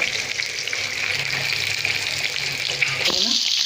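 Katla fish pieces, rubbed with turmeric and salt, shallow-frying in oil, a soft continuous sizzle with watery crackle and a sharper burst near the end, no voices.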